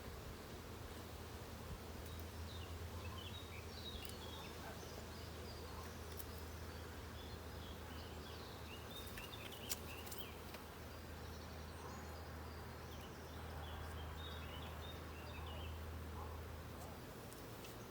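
A steady, dense hum of honey bees fills a nuc hive during inspection, close and continuous with faint rustling and no break in the buzzing.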